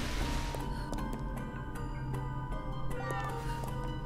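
A cat meows in the video game Gravity Rush 2, a few short calls over steady game music with a voice talking alongside.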